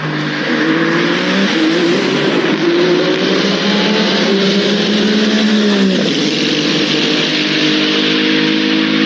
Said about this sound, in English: their crazy good Ferrari 499P hypercar, which sounds fucking amazing, by the way.